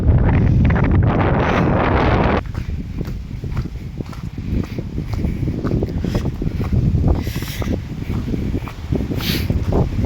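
Strong wind buffets the microphone on a moving motorcycle, roaring loudest at first and then settling into a steady, gusty rush.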